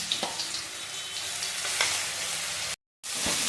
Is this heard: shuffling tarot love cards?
no